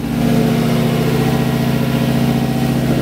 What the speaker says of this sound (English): The car's warming up.